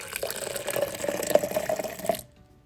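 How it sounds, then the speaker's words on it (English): Hot water pours steadily into a container for rinsing during rice and peas cooking, a close, continuous liquid splash lasting about two seconds before stopping abruptly. "it's hot water pouring there, by the way"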